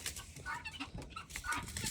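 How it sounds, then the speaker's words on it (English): Chickens and guinea fowl cluck and chatter together at a farmyard, a busy overlapping flock heard at moderate distance throughout, with sharper calls standing out and no talking. "Y'all hear all the chickens and the guineas clucking."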